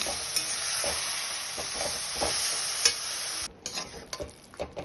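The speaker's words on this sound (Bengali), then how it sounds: "এবার দিয়ে খুব ভালোভাবে এটা নেড়ে আমি রান্না করে নেব।" Taro leaf ghonto being stirred in a pan: a spatula scrapes and turns the mixture under a continuous bright sizzle, with a short pause and a few sharp clicks toward the end.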